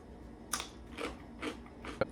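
A crispy piece of gluten-free pizza crust, made without yeast, crunches in several sharp bites spaced about half a second apart, close and fairly quiet.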